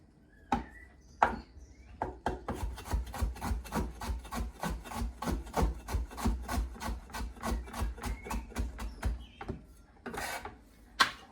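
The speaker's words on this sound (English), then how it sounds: "you can use a cheese grater like you do with the cheese" Vegetables for kimchi scraped over a cheese grater in a steady run of quick rasping strokes, close and fairly loud, with a few sharper knocks at the start and end and no talk.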